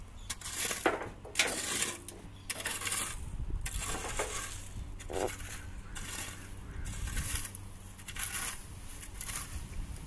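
A hand weeding tool dragged through farm soil in repeated scraping, crunching strokes, each with a gritty rasp and small rattles, close up and fairly quiet, with no talk.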